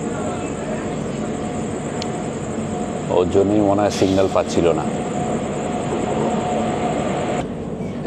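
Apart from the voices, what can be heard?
freight train entering the station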